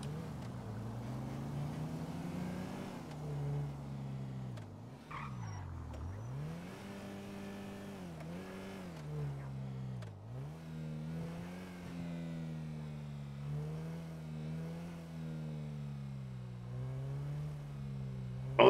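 Video game car engine droning and revving up and down through gear changes during roleplay driving, the steady motor hum dipping and rising repeatedly, heard alone without talk.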